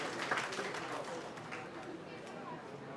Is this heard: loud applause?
yes